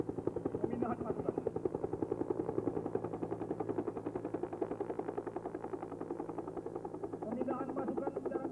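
Military helicopter rotor beating steadily at a troop transfer during a special forces (Kopassus) anniversary ceremony in 1994, loud and continuous chop with engine drone throughout, with some voices mixed underneath.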